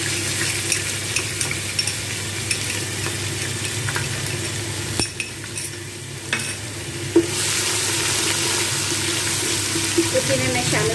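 Garlic ginger paste frying with browned onions in a pot for beef nalli biryani, a continuous loud sizzle with intermittent scraping and stirring knocks throughout.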